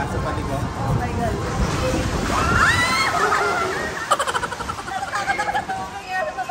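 Water rushes and splashes steadily on a Tokyo Disneyland water ride, fairly loud and continuous, with excited riders chattering and shouting over it.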